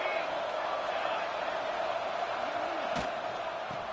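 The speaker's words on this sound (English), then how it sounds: "It's early, but this crowd is fired up. Listen to this noise here." Fired-up football stadium crowd at Kentucky versus Tennessee, a broad sustained roar of cheering spread across the whole stretch, steady and distant-sounding, with voices mixed into the din.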